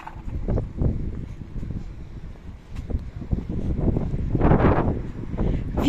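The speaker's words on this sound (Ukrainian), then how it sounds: "Послухайте зі мною шум вітра трохи." Gusty wind buffets the microphone outdoors in uneven rumbling bursts, swelling louder toward the end.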